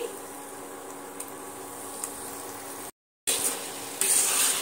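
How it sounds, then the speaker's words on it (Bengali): Tomato paste sizzling and being stirred in a pan, an egg biryani base, with a steady close frying hiss, a brief silent gap, then louder sizzling and scraping. "টমেটো পেস্টটা দিয়ে আমি ভালো করে কষাতে থাকবো।"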